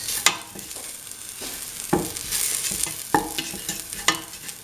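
A spoon stirs a spice mixture into kidney beans and potatoes in a hot pan, giving several sharp scrapes and knocks at an uneven pace over a low frying sizzle.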